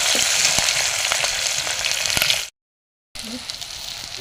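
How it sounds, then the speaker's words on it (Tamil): Onions with curry leaves frying in oil in a pan for tamarind green-mango curry, a steady close sizzle with scraping stirs, cut by a brief silent gap before the frying resumes. "அதுக்கு பிறகு கிண்டி விடுவோம்"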